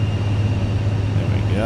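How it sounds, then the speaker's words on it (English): A simulated aircraft engine in Microsoft Flight Simulator 2024 powers up for taxi, making a steady, loud low drone with a broad hiss that holds evenly throughout. "let's give it a little bit of power and start moving here"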